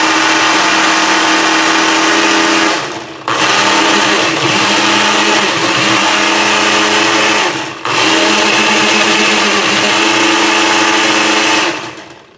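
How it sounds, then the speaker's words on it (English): A blender loudly whirs while mixing cauliflower Alfredo sauce, running in three sustained bursts separated by two brief pauses, with a steady motor drone throughout. "So I'm gonna start mixing."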